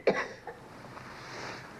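A single short cough from a sick person in a quiet room, one sharp burst followed by soft breathy noise and a low hum.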